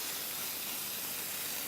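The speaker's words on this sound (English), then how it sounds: "now we're just gonna place that in. Again, you have that nice sizzle" Vegetables sizzle in a hot pan while roasting for spaghetti, giving a steady, dense hiss that holds evenly from start to finish with no talk over it.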